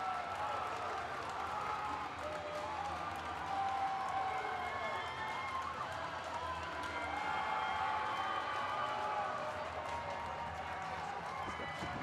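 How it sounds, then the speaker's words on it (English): A hockey crowd at a JV championship game roars and cheers after a goal in a tied third period. The sustained loud cheering and clapping fill the arena throughout, with a commentator's voice mixed in. "you hear a deafening roar by the Frisch Cougar faithful"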